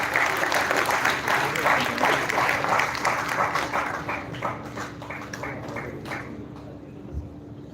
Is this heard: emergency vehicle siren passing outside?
no